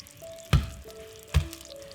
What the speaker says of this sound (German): Ein Esslöffel Öl in eine Pfanne geben. Bei mittlerer Hitze 6 Minuten auf jeder Seite anbraten